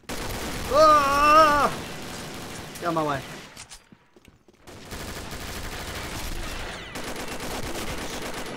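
Gunfire in Combat Arms Reloaded, bursts of rapid automatic shots crackling through the middle and end, broken by a brief quiet gap and mixed with vocal-like sounds near the start.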